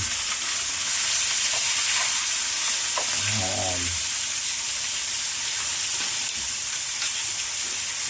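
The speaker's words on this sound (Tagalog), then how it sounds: "Yan ang ating piniprito." Food frying in hot oil gives a steady, loud sizzling hiss that fills the whole stretch, with a brief lower bubbling burst partway through and no talking.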